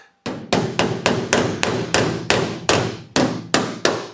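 A hammer strikes the wrinkled sheet metal of a customized VW car roof, about a dozen sharp, ringing blows at a steady, slightly uneven rhythm, close and loud with no talk.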